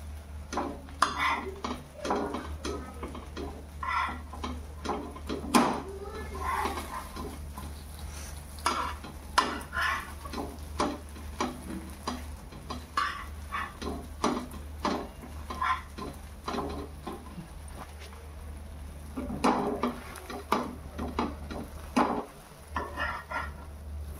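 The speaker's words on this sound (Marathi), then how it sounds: "1 मिनिट फक्त त्यांना आता शेकून घ्यायचं आहे आणि पलटी करायचे आहेत." Masala pav being pressed, toasted and flipped on a pan, with repeated close clinks and scrapes of a spatula against the pan over a low background hum and a faint sizzle.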